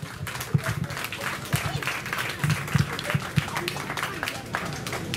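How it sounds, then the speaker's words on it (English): An audience at a county fair stage show claps steadily while a few low voices and crowd murmur sit underneath, with occasional louder claps standing out. "Let's give him another round of applause."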